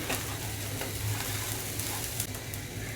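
Rice and lentils frying and being stirred in a pan for vegetarian bhuna khichuri, giving a steady close-up sizzle broken by soft scraping stirs, with no talking.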